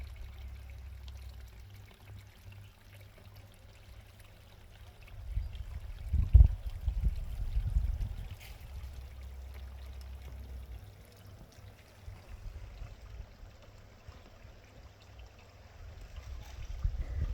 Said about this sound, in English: let's fill it up with fresh water.